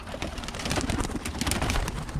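Birmingham Roller pigeons coo softly inside their loft, a low murmuring burble running continuously over a dull background rumble, fairly close.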